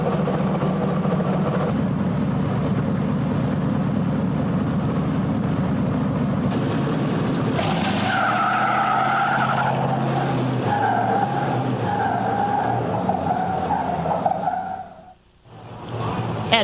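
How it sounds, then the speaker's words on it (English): Championship drag racing cars at Labatt Raceway in 1999, a constant loud engine roar with tire squeal and skidding that shifts and rises midway, close and continuous before a sudden brief drop near the end. "It is Autotrans Championship drag racing"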